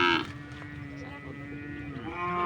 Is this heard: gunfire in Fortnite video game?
no